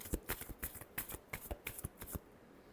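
Tarot cards shuffled by hand, a quiet rapid flurry of papery riffles and flicks lasting a couple of seconds before fading out.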